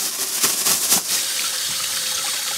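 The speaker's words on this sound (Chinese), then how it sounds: "去把肉洗一下" Tap water runs in a sink while meat is washed, a steady close gush with a few splashy bursts near the start.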